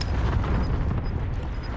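A cluster strike pounds the area in a first-person shooter video game, a dense, continuous low rumble of overlapping explosions, loud and close with no talking.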